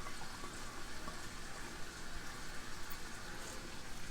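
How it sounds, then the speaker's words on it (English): Onions frying slowly in olive oil in a pan over a flame, a faint, steady sizzle and crackle like light rain, continuous and without talking. "I put another pan on the flame. We're going to add a little bit of olive oil"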